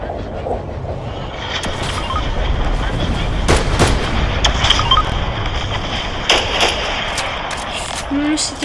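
Gunfire in a French competitive shooter match, a few sharp reports spread through a dense, rumbling game soundscape, with voices chatting over it.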